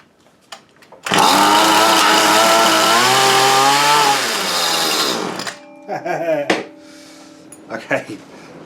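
Homemade crane's small engine with a worn carburetor runs loud and steady for about four seconds, revving with a rising and falling harmonic whine, then drops to a lower idle before cutting out into clanks and handling noises.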